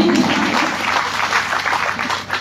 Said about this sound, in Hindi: मैं चाहती हूँ कि एक मरतबा इस कामयाब मुशायरे के लिए जोरदार तालियां बजा दें।